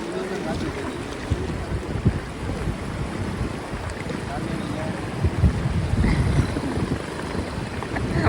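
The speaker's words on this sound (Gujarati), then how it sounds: "પાણીમાં ગાડી હાલે" A van pushes through the water of the Shetrunji river near a village, making a steady, loud rush of sloshing water and churning wash, mixed with heavy wind buffeting across the whole stretch.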